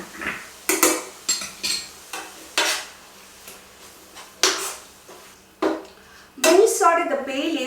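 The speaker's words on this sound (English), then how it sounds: "Now I'm going to add the green coconut chutney." Green coconut chutney is scraped from a container and stirred into a pan, with sharp repeated clinks and scrapes of a spoon against metal, followed by a louder sizzle as it hits the hot pan.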